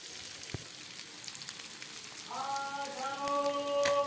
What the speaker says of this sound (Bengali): পাবদা মাছ ভেজে নিচ্ছি।